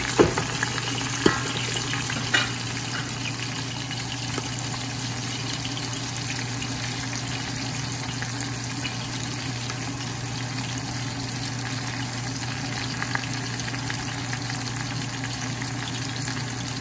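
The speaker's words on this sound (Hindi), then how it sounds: "गोश्त को मैं थोड़ा सा फ्राई करूँगी" Veal meat frying lightly in a pot: a continuous, even sizzle with crackling hiss throughout, a low steady hum beneath and a few faint clicks of stirring near the start, no speech.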